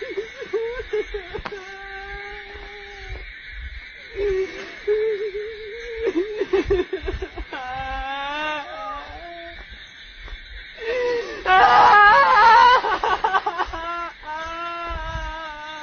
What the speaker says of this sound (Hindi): वीडियो में इस स्पिरिट के रोने की आवाज़ सुनाई दे रही है